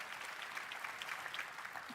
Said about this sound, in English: clap if you want